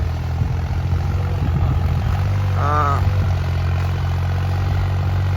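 A tractor engine runs steadily on a Punjabi farm, a loud continuous low diesel drone throughout, with a brief voice speaking over it midway.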